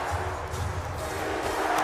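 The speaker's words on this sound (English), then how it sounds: "I'm hearing some boos from the crowd" A virtual arena crowd in the basketball game NBA Live 19 sends up a steady, loud wash of booing that stays continuous and dense throughout the short moment.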